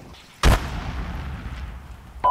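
A tank cannon fires once in the Arma 3 military game: one sharp, loud boom that leaves a long echoing tail, with a faint click near the end.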